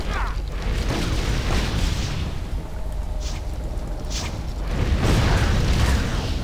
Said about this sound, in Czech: To ty ohňostroje zase z té země.